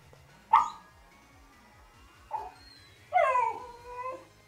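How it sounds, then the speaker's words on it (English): A dog barks three times in short sharp bursts, the last one longer and trailing into a whine, fairly close, with a steady low mechanical pulsing underneath. "no barking"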